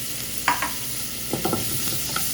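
Shrimp with ginger and soy sizzling in hot oil in a pan, stirred in a few short scraping bursts over a steady low frying hiss.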